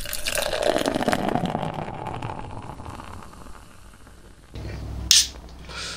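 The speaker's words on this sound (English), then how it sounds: "I think we should get pouring" Beer, a rhubarb IPA, is poured into a glass, a steady liquid rush that fades, followed by a short sharp clink and fizz near the end.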